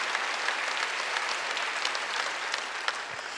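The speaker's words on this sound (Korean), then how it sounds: "박수 한번" A congregation claps at a Wednesday church worship service, steady dense applause filling the room at moderate distance, with no voices heard over it.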